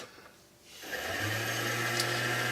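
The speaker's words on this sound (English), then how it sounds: "now I'm going to buff up this piece on my buffing wheels here" A buffing wheel spinning at about 1200 to 1700 RPM as a motorcycle pen part is pressed against it, starting after a quiet moment and building into a steady close whirring hum with a constant low drone.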